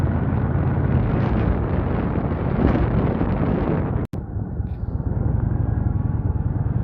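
A motorcycle fitted with a dog sidecar rides toward a town's Main Street, its engine roaring steadily alongside heavy wind rush on the microphone, with a brief dropout partway through before the loud riding noise resumes.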